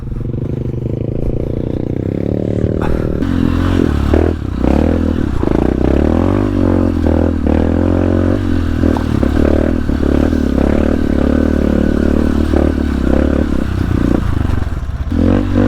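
A dirt bike engine drones loudly and continuously on a slippery uphill trail in Pangasinan, Philippines, its pitch rising and falling as the rider works the throttle, with rough clattering over uneven ground.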